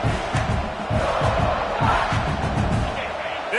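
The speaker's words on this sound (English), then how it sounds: "This crowd trying to make life miserable for this offense." A packed college football stadium crowd roars steadily through a tense offensive play, a dense, loud wall of cheering and shouting that swells and holds without pause.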